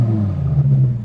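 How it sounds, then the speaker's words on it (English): A deep, steady engine rumble from a BMW E60 M5 at a car show holds close and loud for a moment, with low humming tones and no rising rev. "I can hear the sound of an E60 M5 revving in the background"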